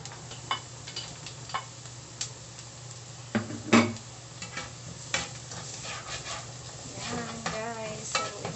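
Garlic sizzles in a hot pan for beef picadillo, a steady frying hiss broken by scraping stirs and clinks of a utensil against the pan, with no talking.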